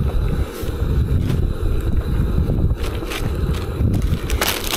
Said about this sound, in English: The wind's going this way.